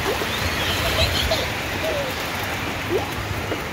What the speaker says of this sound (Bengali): খালি বৃষ্টি হচ্ছে, দেখো মুষলধারে বৃষ্টি, কোনো কিচ্ছু দেখা যাচ্ছে না, পুরো সাদা হয়ে বৃষ্টি হচ্ছে।